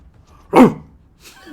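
A big mixed-breed dog gives a single loud, close bark, followed a moment later by a softer short vocal sound.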